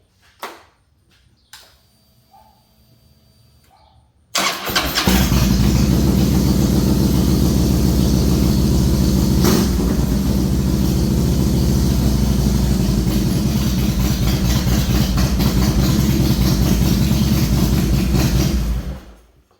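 A Harley-Davidson Big Twin Softail motorcycle engine fires up after a few seconds of near silence, then holds a loud, steady, close rumble until it cuts off just before the end.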